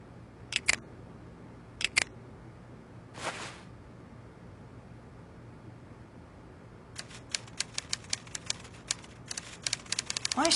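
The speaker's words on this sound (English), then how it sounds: "I say, Poirot, he seems to be typing up quite a storm." Typewriter keys clack behind a locked door in the Agatha Christie: Evil Under the Sun PC game, a few sparse strikes at first, then a rapid, steady run of typing near the end, with no voices.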